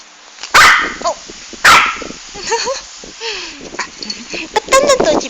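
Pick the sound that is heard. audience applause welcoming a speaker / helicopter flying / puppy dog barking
puppy dog barking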